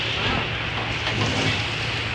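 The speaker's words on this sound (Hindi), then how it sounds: "भगवान पे कितना तेज बारिश कर रहा है" Heavy rain pouring outdoors during a storm on the way to a cab, a steady dense hiss filling the whole clip at constant loudness.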